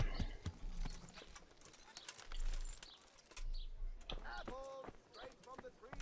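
A horse's hooves clip-clop in a steady walking rhythm in the medieval video game Kingdom Come Deliverance, heard close and moderately loud, with an occasional whinny, bird chirps and a brief voice in the background.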